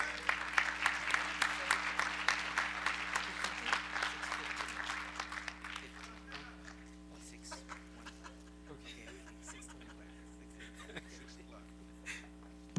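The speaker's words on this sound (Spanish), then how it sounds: "Vamos a recibirlo con un fuerte aplauso" Church congregation applause welcoming the pastor, a strong rush of claps for about six seconds that thins out, with a steady low hum beneath and scattered voices after.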